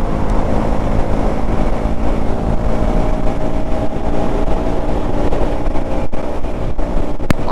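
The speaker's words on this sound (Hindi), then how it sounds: "विंड ब्लास्ट बहुत ज़्यादा है, हम लोग अपोजिट डायरेक्शन में चल रहे हैं तो हवा बहुत ज़ोर आ रही है यार" Strong headwind roaring over a KTM 200 motorcycle at top speed on a highway, a loud, steady broadband rush of wind buffeting with the engine's drone underneath, continuous and close, with no talking.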